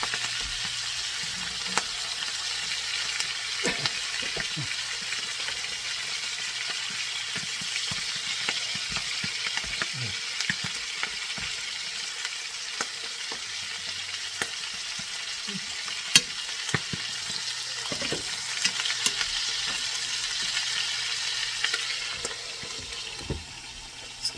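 Turkey-bacon-wrapped chicken fries in a pan with a steady, close sizzle that lasts throughout. Occasional clicks and scrapes are heard as the pieces are turned, and no one talks over it.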